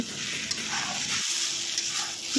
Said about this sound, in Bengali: পেঁপেটাকে ভালো করে ভাজা করে নেব